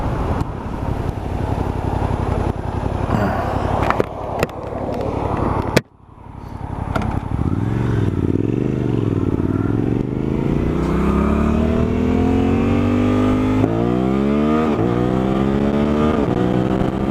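Suzuki DL-800 motorcycle engine heard while riding, steady loud drone that drops abruptly, then climbs back through rising and falling revs with gear changes, close up with wind noise.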